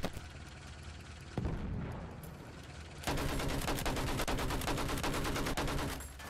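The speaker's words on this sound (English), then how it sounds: "Wait, I'm getting shot at." Battlefield 1 gunfire crackles in a battle around buildings and a tank, starting with scattered shots and then breaking into dense, continuous rapid fire at close range.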